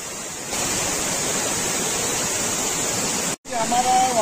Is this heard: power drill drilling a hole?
no